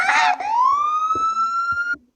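A vehicle siren in the Roblox game A Dusty Trip switches on loud and close, a rising electronic wail that climbs, then holds a steady tone for about two seconds before cutting off abruptly.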